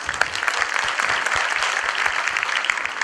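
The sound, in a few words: parents' thunderous applause for students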